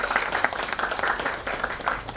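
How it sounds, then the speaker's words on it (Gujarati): An audience at an award ceremony claps loudly and continuously in welcome, a dense, close burst of applause with no voices over it. "જોરદાર તાળીઓથી વિજયભાઈને વધાવીએ"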